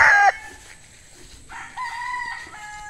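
Young rooster, an eleven-month bull stag, crowing nearby: a short loud opening note, a pause, then a longer drawn-out crow that trails off, with no talking over it.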